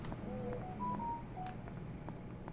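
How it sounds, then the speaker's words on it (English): A phone sounds in the room during a Black Mesa play session, giving a few short electronic tones over a steady hum of game background noise. "Sorry, that's my phone."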